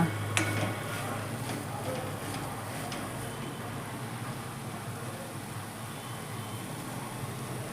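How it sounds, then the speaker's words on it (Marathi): Green chilies roast in a pan for paneer bhurji, a steady soft sizzle with a few sharp utensil clicks and scrapes near the start that then settle into an even hiss. "हिरवी मिरची हिरवी मिरची घालून चांगली भाजून घ्यायची"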